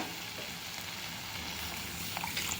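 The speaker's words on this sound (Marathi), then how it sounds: "आणि टोमॅटो छान परतून घ्यायचे" Chopped tomatoes are sautéed in a pan for a tomato curry, giving a close, continuous hissing sizzle with a faint tap of a utensil near the end and no talking.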